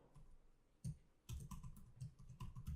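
Quiet, close clicking of fingers typing search queries on a computer keyboard. Short bursts of keystrokes come in an uneven rhythm, with no voices.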